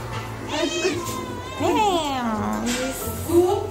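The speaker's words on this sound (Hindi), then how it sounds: "भाई ये बिल्ली रोज आ जाती है कुछ ना कुछ" A cat meows several times at close range, drawn-out rising and falling cries, some edging toward a caterwaul, with a faint steady hum underneath.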